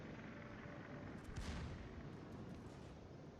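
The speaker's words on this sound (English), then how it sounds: "Finish off the Colorado with a couple of shell hits." A naval ship fires its shells in a warship video game. A single muffled boom rises out of a faint, steady rumble, then fades.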